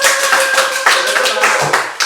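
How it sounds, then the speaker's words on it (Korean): A student presentation audience in a room applauds, brisk, close clapping from a modest group, steady and even for the short stretch before it trails off. "권민 학생한테 박수 한번 부탁드립니다"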